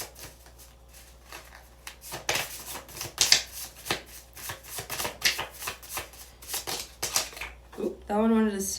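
Handmade deck of reading cards being shuffled at close range, a run of quick papery riffles and flicks building after a quiet start, with a brief tonal sound at the end.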